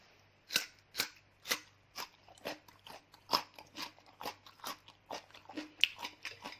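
Crisp raw kohlrabi being bitten and chewed, a series of sharp crunches at a steady pace, loud and close, followed by quieter chewing crackles with no speech.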